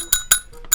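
A notification bell chime rings three times in quick succession, bright metallic dings with ringing overtones, loud and close with no talk over them.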